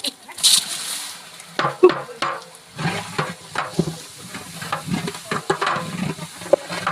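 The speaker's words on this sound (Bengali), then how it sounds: "এখন আমরা মশলাটা দিয়ে দিব" Spice paste goes into onions frying in a large pot for a 20 kg broiler chicken jhal fry, bringing a loud, steady sizzle with stirring scrapes and clatters throughout.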